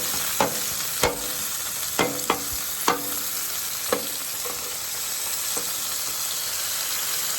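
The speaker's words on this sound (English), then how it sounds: "When your burgers get like this, you start chopping it up." A metal spatula chops burgers on a sizzling griddle for a New York City chopped cheese sandwich, sharp clanking strikes at an irregular pace over a steady loud hiss of frying meat.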